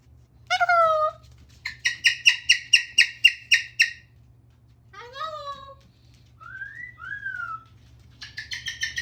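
A pet cockatoo calls indoors in a series of sharp, repeated squawks and whistled chirps, loud bursts spaced by short pauses over a low steady hum.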